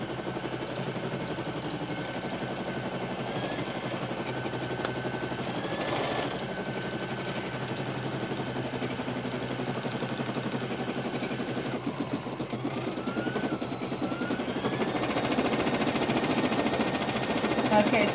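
An embroidery machine stitching a coaster runs steadily with a dense mechanical whirr and rapid needle chatter, close by and continuous, with voices talking over it.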